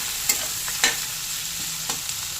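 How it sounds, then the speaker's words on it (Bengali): Chopped onions fry in a pan after bay leaf, cardamom, cinnamon and cloves for a mutton curry, a loud continuous sizzle broken by a few sharp scraping stirs of a spatula. "দেবো পেঁয়াজ কুচি, পেঁয়াজ একটু লাল করে ভেজে নেব"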